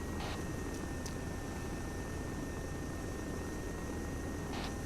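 A helicopter from the Arma 3 video game whirs in a steady, faint rotor wash, a constant airy drone broken by a couple of brief higher clicks.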